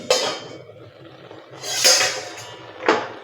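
A lid comes off a cooking pot of chakwat gargata greens, three sharp metallic clinks and scrapes spaced apart with quiet gaps between them, close and fairly loud.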